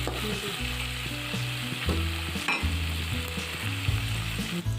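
Chillies and onions fry in a pan for an Odia egg fried rice, a steady close sizzle with scraping stir strokes throughout and no talk.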